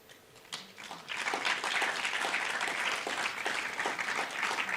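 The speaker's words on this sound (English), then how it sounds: "Let's join our hands and clap for them." A live audience applauds trainers at an arts event in Nairobi, the clapping swelling after a second into steady, dense applause that fills the room and continues to the end.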